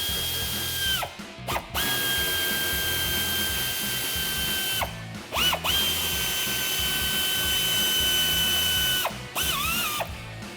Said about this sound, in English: we're gonna grab the ratchet, 8mm socket. There's 5 bolts we're going to remove in the wheel well right here.